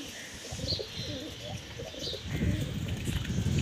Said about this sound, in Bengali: আর এই হচ্ছে পায়রার এখন পরিস্থিতি।